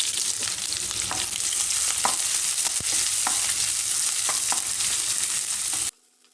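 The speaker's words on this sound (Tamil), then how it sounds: "மீடியம் சைஸில் ரெண்டு பெரிய வெங்காயம் ஸ்லைஸாக கட் பண்ணியிருக்கேன் இதை சேர்த்து நல்லா வதக்கிடலாம்" Sliced onions sautéing in a pan for Thalassery-style mutton fry, a steady close sizzle with spatula scrapes throughout, cutting off abruptly near the end.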